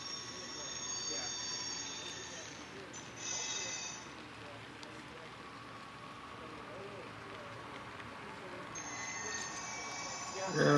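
The wheels of an HO scale model train squeal on a curve, giving a thin, high whine that comes and goes over a continuous low rumble. Someone talks over it.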